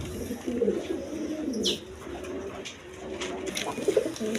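Several pigeons coo nearby in repeated low, rolling phrases, with a brief high chirp and a few light clicks and rustles mixed in, and no voices present.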